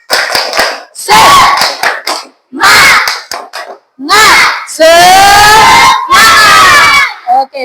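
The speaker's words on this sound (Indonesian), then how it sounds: "Sekali lagi, tepuk semangat!" Classroom of students joins a rhythmic spirit clap and cheer, loud bursts of clapping alternating with shouted chants in a repeating pattern, close and energetic.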